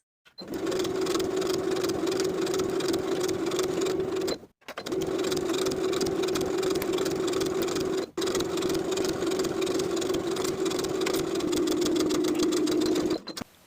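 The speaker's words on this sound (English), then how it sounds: "Then I'll edge stitch the hem in place from the bottom of one side seam all the way up across the shoulder seam" Sewing machine edge stitching a hem on a summer beach cover-up, running loud and steady in three long continuous bursts with brief pauses between, no talking.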